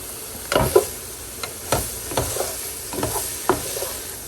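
Zucchini and corn cut from the cob sear in a hot pan, a steady sizzle broken by scattered clicks and scrapes of stirring, close and clear with no talk.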